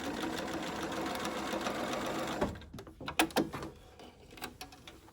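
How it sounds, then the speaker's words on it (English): Sewing machine stitching in the ditch along a faux flange binding seam, running steadily and fairly loud for about two and a half seconds, then stopping into a few quieter clicks and handling sounds. "So I just sew right along that faux flange,"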